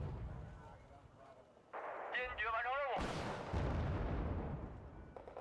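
Heavy artillery booms in the video game Wargame, a deep blast followed by rolling rumble and wavering synthetic tones, moderately loud amid game effects.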